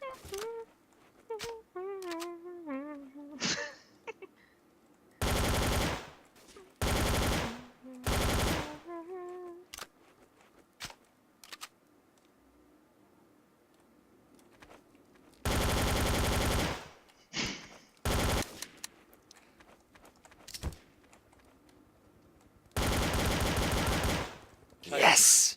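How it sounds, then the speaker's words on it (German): Gunfire from the video game Trouble in Terrorist Town comes in several loud, dense bursts of rapid automatic fire, separated by gaps filled with chatter and short game sounds, with players talking throughout. "Er schießt auf mich."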